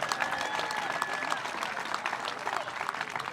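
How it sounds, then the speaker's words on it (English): Applause from a sizable audience at a middle school graduation ceremony on a field, steady dense clapping throughout at moderate distance, with faint crowd murmur beneath. "you can go ahead and give yourselves a round of applause"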